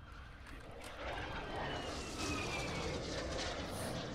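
Military aircraft engines roar through an air fight in Call of Duty Warzone 2.0, a steady droning rumble that swells louder after the first second and holds without any talk.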